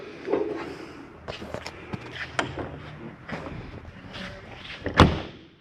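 Someone moves about and handles the exterior door of a 2021 Palomino Columbus 329DV RV, with scattered clunks and footsteps, ending in one loud close slam as the door shuts.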